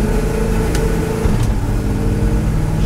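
A Dodge Coronet's engine runs steadily while the car drives down an old road, a loud, even drone with a constant low hum and no talking.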